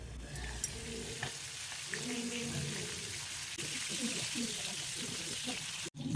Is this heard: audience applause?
no